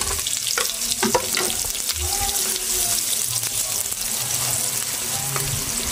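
Four medium onions fry in hot oil in a pan for vegetable pulao, a constant bright sizzle with stirring scrapes and knocks, close and fairly loud, with faint voice in the background.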